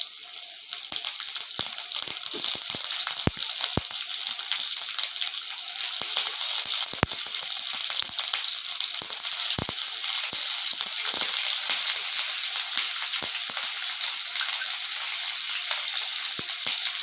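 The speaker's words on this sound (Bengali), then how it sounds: "দুটো পেঁয়াজ আছে এটাকে একটু হালকা ব্রাউন করে" Chopped onions frying in hot oil in a pan for a Lucknow-style nihari, a steady dense sizzle with scattered crackles and pops running throughout, close and fairly loud, no talking.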